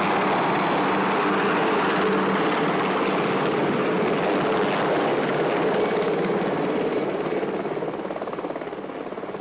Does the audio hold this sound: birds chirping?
no